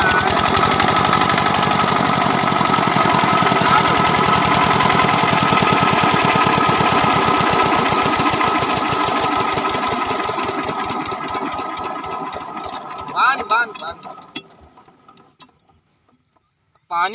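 A farm engine runs loud and close with a fast mechanical chugging, then gradually slows and winds down to a near stop, with a few clanks as it dies out.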